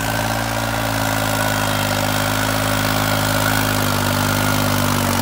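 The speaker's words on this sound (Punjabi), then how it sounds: "ਡੱਟ ਕੇ ਹਾਲ ਲਾਉਂਦਾ ਟਰੈਕਟਰ" A New Holland 3630 tractor pulls a 15-tine tiller, its engine a steady, loud, close drone under load with a strong low hum and no pauses throughout.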